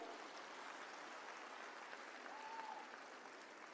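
An audience at a women's event with the Delhi Chief Minister claps in a steady, dense wash of applause that sounds somewhat distant and muffled and lasts throughout.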